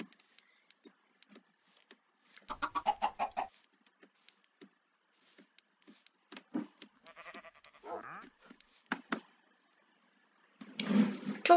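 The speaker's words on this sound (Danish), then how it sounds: "Kom så, mine små kyllinger" Chickens in the Minecraft video game cluck in short repeated bursts with gaps between them, ending in a louder flurry of game noise.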